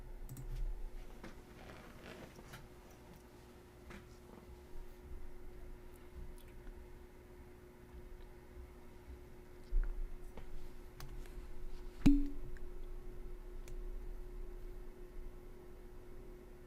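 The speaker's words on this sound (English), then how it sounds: "you start typing in the chat box, but we all hit enter at the same time" Keys clatter faintly and sporadically on a computer keyboard as a message is typed into a chat box, the light taps scattered over a quiet room hum with a louder click near the end.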